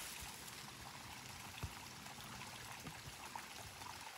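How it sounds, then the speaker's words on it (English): Small stream of water flowing beside a trail on the Appalachian Trail, a faint, steady trickle and babble heard alone with a few soft bumps. "We keep coming across these nice little stream of water."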